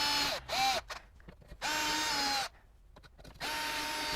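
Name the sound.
power drill making 3/8 hole through plastic front lip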